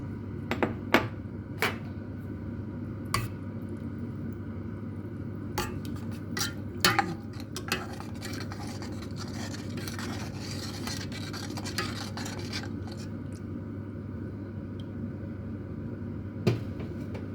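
A metal pan clatters and knocks sporadically while cooking shrimp sour curry: sharp scrapes and bangs over a steady low background hum.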